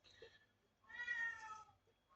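A pet cat meows indoors, with one faint short call followed by a louder, drawn-out meow lasting about a second, close and otherwise quiet.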